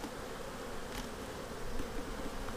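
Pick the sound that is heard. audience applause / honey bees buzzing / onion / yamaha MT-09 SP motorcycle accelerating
honey bees buzzing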